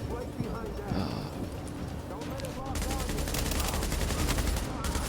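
Gunfire in The Division, a dense rapid volley that builds and stays loud through the second half, preceded by busier game noise.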